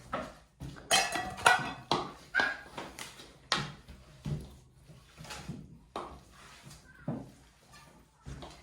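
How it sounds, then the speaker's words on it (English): Tuna melt ingredients being mixed in a bowl, a rhythmic run of distinct scraping and knocking strokes of a utensil against the bowl, close and fairly loud, with brief quiet gaps between strokes. "So make sure you combine those ingredients really well, Julia."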